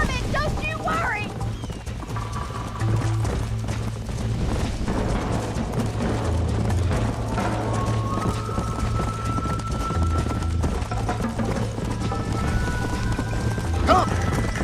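Horse hooves clip-clop at a steady gallop in the Red Dead Redemption video game on PS3, a continuous drumming rhythm under game music and a character's spoken lines.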